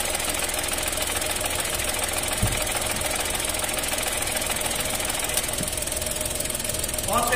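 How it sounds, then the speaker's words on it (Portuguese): Engine of a 2023 Chevrolet Onix running with a faulty aftermarket helper clutch, giving a steady close mechanical whine and rattling knock while the clutch pedal is pressed, with a few small clicks and a thump. "Eu vou apertar a embreagem lá, ó. E vocês vão entender o barulho"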